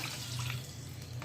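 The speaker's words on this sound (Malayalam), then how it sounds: "മൂന്ന് കപ്പ് വെള്ളമാണ് ഞാൻ ഒഴിച്ചു കൊടുക്കുന്നത്" Three cups of water pour steadily into a pan in a short continuous stream, close and fairly quiet.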